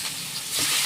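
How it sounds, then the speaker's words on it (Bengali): Fish slid into hot oil in a kadai give a short, steady, bright sizzling hiss that swells slightly toward the end, close up with no talking. "মাছগুলো দিয়ে দিলাম"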